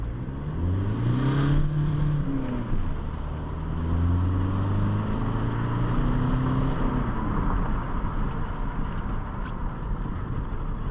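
An Opel Insignia with a DPF-back straight pipe exhaust idles and revs, a deep low drone rising and falling in pitch through a couple of gentle throttle sweeps, steady and fairly close with no talking.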